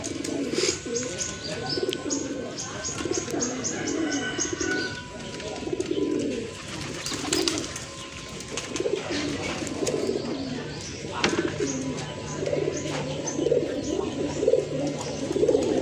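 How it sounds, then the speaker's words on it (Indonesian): Several pigeons arriving and landing after a 1.8 km test flight of two pairs, steady cooing and chirping close by, with faint voices in the background. "ini detik-detik merpati sudah sampai ya guys, sudah mau turun"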